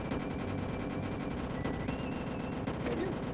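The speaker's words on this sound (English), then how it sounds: "Oh, he keeps shooting me." Rapid gunfire crackles in the Roblox game Dusty Trip, dense bursts of shots rattling continuously and loudly across the whole stretch with no voices.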